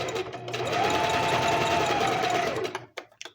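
A sewing machine stitches forward on underwear fabric in one loud, steady whirring run lasting a few seconds, then stops abruptly, leaving a few faint clicks.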